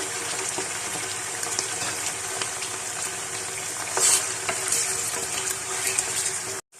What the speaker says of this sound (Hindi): आंच आपने तेज रखनी है, तेज आंच पे इसको फ्राई करेंगे